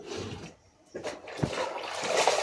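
Wet items are washed and wrung out by hand, with splashing water and dripping squeezes at close range, moderately loud and uneven.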